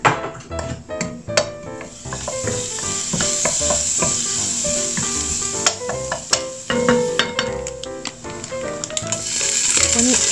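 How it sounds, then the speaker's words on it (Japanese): Garlic frying in olive oil in a pan over medium heat, a loud, steady sizzle dotted with sharp crackles and pops throughout, close up and with no talking. "ニンニクを入れて炒めていきます。"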